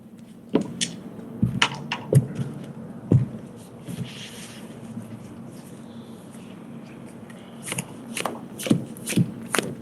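A deck of Magic cards is cut into piles and shuffled on a table, giving sharp riffling bursts and soft card slaps at irregular intervals, near and fairly quiet, with faint talk in the background.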